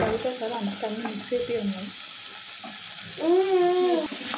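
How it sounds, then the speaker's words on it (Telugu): Potatoes fry in a pan for a potato and green pea curry, a steady sizzle under stirring with tonal, voice-like sounds rising over the cooking noise. "పొటాటోస్ అన్నీ వేసుకొని మళ్ళీ కలుపుకొని"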